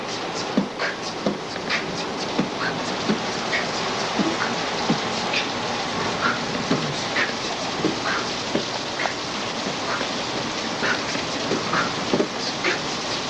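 Steady rain falls outdoors, a dense continuous hiss with scattered louder drops and patters throughout, fairly close and without speech.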